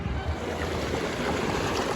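Fast stream swollen after rain, a dense continuous rushing of water close by at steady loudness.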